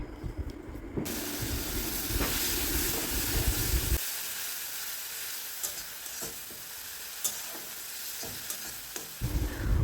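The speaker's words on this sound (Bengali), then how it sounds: "মশলাটা কষানোর সময় এখানে একটু জল দিয়ে দেব যাতে গুঁড়ো মশলাগুলো খুব ভালোভাবে কষা হয়ে যায়" Ground spice masala sautéing in a pan with a splash of water, a loud bubbling hiss and sizzle that drops to a softer steamy crackle midway, with occasional scrapes of stirring.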